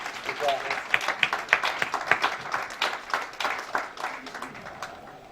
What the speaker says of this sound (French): Accueillons-les avec les acclamations.